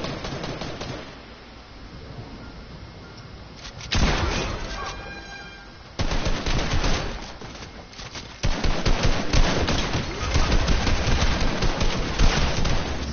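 Assault rifle fire in Fortnite comes as loud bursts of rapid shots, sometimes clustered and sometimes spaced apart. The bursts alternate with quieter stretches in the game's soundscape.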